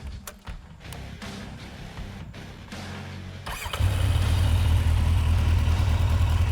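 A Kawasaki Z800 motorcycle engine starts to idle, a deep, bassy, steady rumble that grows loud and close after a quieter stretch of background noise.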